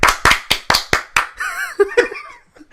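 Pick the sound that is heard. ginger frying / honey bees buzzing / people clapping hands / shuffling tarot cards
people clapping hands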